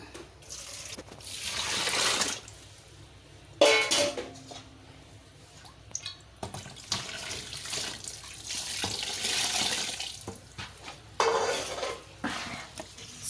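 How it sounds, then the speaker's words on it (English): Tap water runs in bursts into a sink while grated coconut is washed at home, with splashing, stirring and light clinks of a bowl and utensils between the pours, close and fairly loud. "wash again, but this time around I'm not going to use hot water,"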